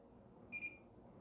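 An E-flite NX6 radio transmitter gives one short, clear electronic beep against a quiet background.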